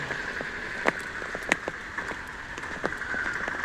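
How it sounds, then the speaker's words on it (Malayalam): Heavy rain falls on a road used by autorickshaws, a steady close hiss punctuated by scattered sharp drips and splashes. "മഴ എന്ന് പറഞ്ഞാൽ ഭയങ്കരമാണ്."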